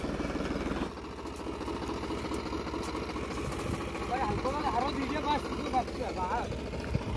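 A low, steady Mahindra Arjun tractor engine idles nearby in a field with a rhythmic chugging, while voices talk over it.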